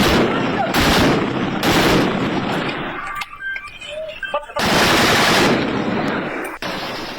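Heavy weapons fire in the streets of Ratodero, a town in Sindh: loud, sustained bursts of rapid automatic gunfire, broken by a quieter stretch with scattered noises before the heavy firing resumes.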